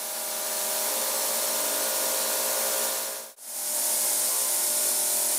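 A cutting tool with its insert and cutter body sits in an ultrasonic cleaner's detergent bath, giving a loud, steady broadband hiss that holds constant, cuts out briefly near the end and then resumes.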